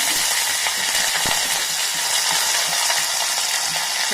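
Curry leaves crackle and sizzle in hot oil in a pan while brinjal chutney is being made, a dense, steady hiss with a few sharper pops.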